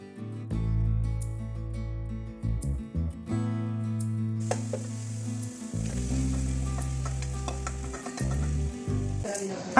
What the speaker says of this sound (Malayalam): പിന്നെ ഞാൻ ചിക്കനെല്ലാം ഇട്ടിട്ട് അപ്പോൾ അതിലേക്ക് വേണ്ട പൊടികളെല്ലാം ഞാനിട്ട് ഇടുന്നുണ്ട് കേട്ടോ.